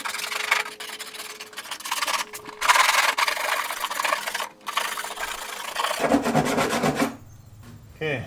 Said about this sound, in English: if you take a little bit of cheese grater on it and just it'll fix it good.